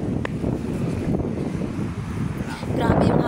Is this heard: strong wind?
yes